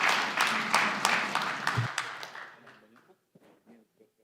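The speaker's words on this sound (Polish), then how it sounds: "Teraz brawa dla mnie" Applause for a panelist at an architecture and history conference fills the room for about two seconds, then fades to a few scattered claps and faint voices.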